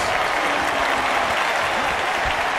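Arena crowd noise from a WWE 2K23 wrestling match, a steady, loud roar of cheering and applause filling the whole stretch without pause.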